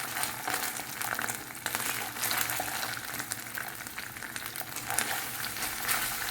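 Tomato ketchup and Kashmiri chili powder go into a hot frying pan, giving a steady, close sizzle and fry with light stirring scrapes throughout, no voices.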